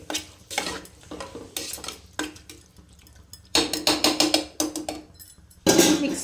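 Keema gravy with a small glass of added water stirred in a pressure cooker, a spoon scraping and knocking against the metal pot in uneven bursts, close and clear with short quiet pauses between strokes.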